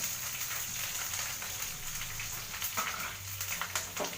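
Green chillies and onion, along with urad dal and chana dal, sizzle steadily in a hot pan, producing a continuous close crackle with a few sharper pops and no voices.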